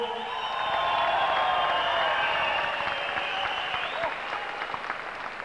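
Audience at a kickboxing event applauding steadily for several seconds, a dense wash of clapping with a few faint cheers, fading slightly toward the end.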